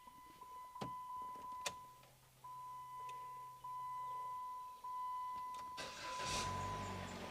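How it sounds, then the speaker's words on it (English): A 2011 Jeep Patriot with the key in: a steady electronic chime tone and a few clicks, then the engine cranks and catches near the end, rising into a close, rough idle. "Start the engine."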